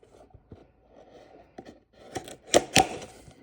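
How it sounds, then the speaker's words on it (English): Cardboard box holding One Piece collectible figures torn and pried open by hand, a few scattered rustles and scrapes building to two sharp, loud rips near the end, close up with no talking. "All right, so actually opening the box."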